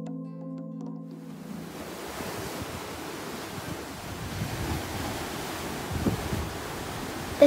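Sea waves wash onto a small stretch of sand at Walton-on-the-Naze beach with the tide in, a steady broadband surf hiss with gentle swells, wind buffeting the microphone, after a brief quieter start.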